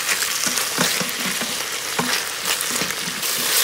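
Tomatoes sizzle and fry in an Instant Pot, a loud, dense crackle with light rhythmic stirring taps running through it, close up and with no voices.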